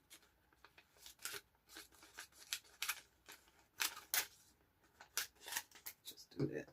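Scissors trimming paper tabs, a series of crisp close snips and cuts in an irregular rhythm, fairly quiet, with a brief voice near the end.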